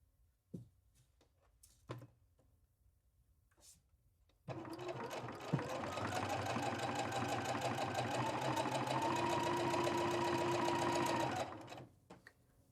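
A sewing machine stitches a quilt block for a drawstring bag, starting after a few quiet handling clicks and running steadily for about seven seconds at close range before stopping, with no talking.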